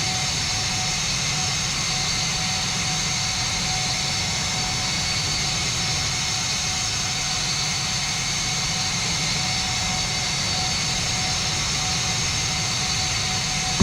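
Jet aircraft climbing in the FlightGear flight simulator, a steady, unbroken engine roar with a constant whine, loud and even throughout with no other sounds.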